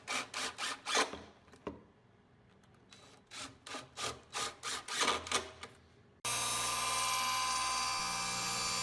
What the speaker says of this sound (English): Here I'm cutting the 4x4s I talked about to put on the inside corners of the benches.